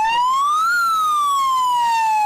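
A loud, close siren wails at a street demonstration in Ottawa, its tone sliding up and then slowly back down in one continuous sweep. No one talks over it.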